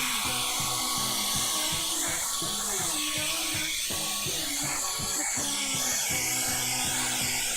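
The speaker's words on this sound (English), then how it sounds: "The blow dryer really speeds it up" A blow dryer runs steadily at close range, drying acrylic paint on a floral canvas, its continuous airy whir joined by a low rhythmic hum and some background music.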